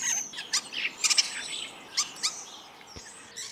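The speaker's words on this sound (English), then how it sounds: "that's the starling. Now, these always used to be regarded as a little bit of a sort of a scruffy looking bird. Let's just hear their song" A common starling sings a fairly quiet, scratchy song of chirps, clicks and whistled notes in irregular short bursts over faint outdoor background, with no talk.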